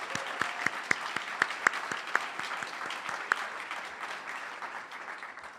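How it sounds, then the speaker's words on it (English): Applause from an audience at a fund's tenth anniversary celebration, with distinct individual claps standing out near the front over a steady wash of clapping that slowly thins toward the end. "Let's give Boeing another round of applause"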